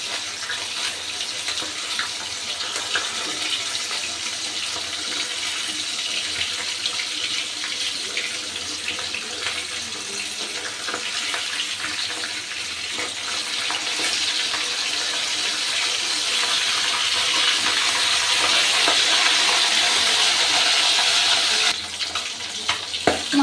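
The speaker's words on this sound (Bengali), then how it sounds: "মাছের আমার এক পিঠ ভাজা হয়ে গেছে। আমি আর এক পিঠ উল্টে দিচ্ছি।" Desi aar fish from the Ganges fry in oil and are gently flipped, giving a steady, loud, dense sizzle that swells slightly toward the end, with no voices.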